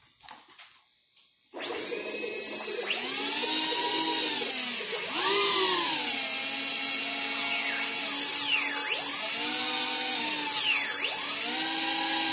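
Electric motor of a Spruce Gosling foam RC plane spinning up on a run-up test, a loud whining buzz that starts abruptly after a few quiet clicks and then rises and falls repeatedly in pitch as the throttle is worked.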